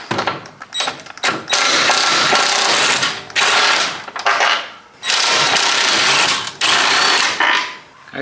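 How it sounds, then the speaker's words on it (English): A Ryobi impact wrench hammers on 18mm bolts of a 2015 Mercedes-Benz C450, loud close rattling bursts of several seconds each, separated by short pauses, with no talk over it. "So these are the big boys now, 18mm. So let's get that big Ryobi impact."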